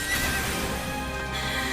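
Horse neighing in the video game Final Fantasy XIV, a whinny with clip-clopping hooves over a dense layer of game music and effects, steady and loud throughout.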